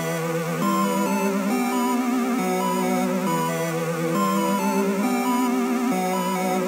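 A default FL Studio synth patch from the stock banks playing a sustained, shifting chord progression with bright buzzy harmonics, steady and continuous without any voices.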